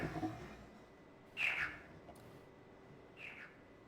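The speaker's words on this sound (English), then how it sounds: "It's an interesting chirping sound it makes when you roll it." Two short, high electronic chirps from a rolling ball in the video game Riven sound a couple of seconds apart, faint against a quiet hiss, with a low rumble at the start.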